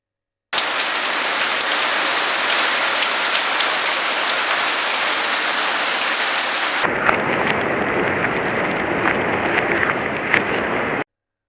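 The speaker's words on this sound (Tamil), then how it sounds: "இங்க பெங்களூர்ல வந்து பார்த்தீங்க அப்படின்னா, 2 நாளா மழை நிக்கவே இல்ல" Heavy rain pouring down in Bangalore, a steady, dense hiss of drops that shifts to a slightly duller tone partway through, continuous and unaccompanied by voices.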